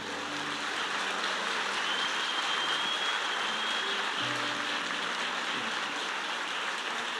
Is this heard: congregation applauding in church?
yes